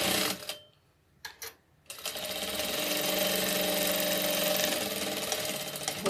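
A sewing machine backstitches and then runs a steady seam to close the side of a doll's dress, starting with a few short bursts and then settling into a continuous whirring run.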